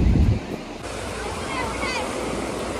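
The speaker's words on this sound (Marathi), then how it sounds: "आत्ता साऊंड खूप असं वाईट येत असणार आहे किंवा अवघड येत असणार आहे, कारण की वारं खूप नेक्स्ट लेवल झालं आहे" Strong wind buffeting the microphone on Diveagar beach, a loud steady rush with heavy low-end gusts at the start that ease into a constant roar mixed with surf.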